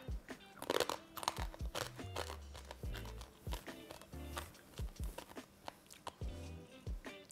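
Loud, close crunching of a hard snack, irregular bites and chews over several seconds, with brief faint vocal sounds in between.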